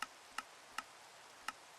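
Bees in a modded Minecraft skyblock game give four short, sharp ticking buzz blips at an irregular pace, faint over a steady hiss, with no talk.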